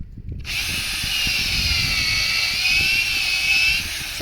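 A power drill whines steadily at high speed for several seconds, boring into a log for mushroom inoculation, with faint low thumps and rumble underneath.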